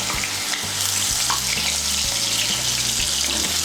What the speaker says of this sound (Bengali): মিশিয়ে নিয়ে আলুগুলোকে লাল করে ভেজে নেব।